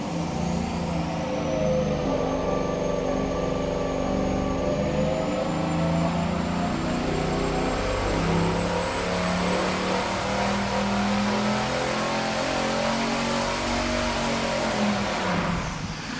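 A turbocharged MoHo 4-4-0 engine with worn piston rings runs hard under boost on a dyno, a loud sustained roar that climbs and holds with a whining overtone, steady and close throughout.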